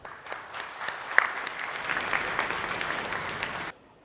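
Applause from the audience at a Sikh awards ceremony in Delhi, a dense, steady patter of many hands clapping for several seconds before cutting off abruptly near the end.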